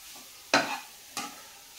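Food being sautéed in ghee in a pan, with two distinct scraping stirs of a spatula, each bringing a short burst of sizzle over a quiet background.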